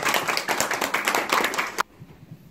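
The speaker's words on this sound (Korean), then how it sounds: "박수 부탁드리겠습니다." Audience clapping at a lecture and award presentation, a brisk burst of many hands that stops abruptly, leaving a quiet room with faint background sound.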